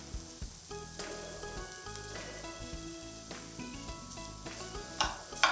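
Carrots frying together with dates in a pan for carrot date halwa, giving a steady close sizzle with small stirring clatters and a louder scrape near the end.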